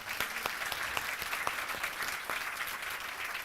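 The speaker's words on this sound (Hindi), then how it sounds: "तो एक बार चाहूँगा जोरदार तालियां बजाएं।" A crowd applauds steadily at a 77th birthday celebration for a reverend. Many hands clap together in a continuous, moderately distant wash, with a few sharper claps standing out.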